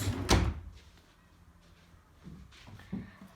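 A sibling's drawer is pushed shut while tidying a room, giving one sharp wooden thump. Faint rustling and lighter knocks of handling follow at a moderate distance.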